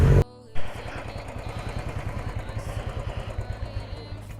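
A BMW motorcycle engine pulses steadily during a ride, a rhythmic throbbing exhaust beat close up after a short loud burst at the start.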